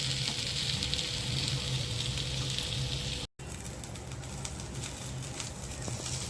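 Moringa drumstick pods frying in oil in a pan, a steady hissing sizzle that holds throughout with one brief dropout, close and even, with no voices.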